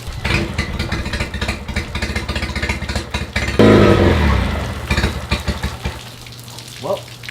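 A small engine, just cleaned at the carburetor, runs with a rough, uneven chugging idle, then surges louder for a moment before settling back and sputtering as if about to stall.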